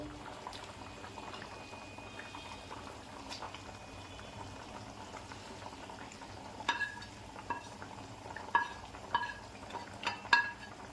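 Egg curry gravy simmers and bubbles steadily in a pan as a small handful of spring onion stalks goes in, with a few louder stirring scrapes and clinks toward the end.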